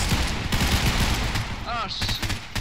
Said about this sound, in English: I want to try the G3. Oh, this gun's beast.